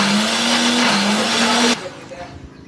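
A kitchen blender grinds shallot, candlenut, turmeric, ginger and chili with a little water into a spice paste, its loud, steady motor whine running close for under two seconds before cutting off abruptly into quiet room noise.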